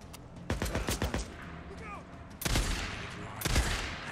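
Gunfire in the video game Days Gone: a quick burst of several sharp shots near the start, then two heavier separate blasts later, loud and close, with a voice talking over parts of it.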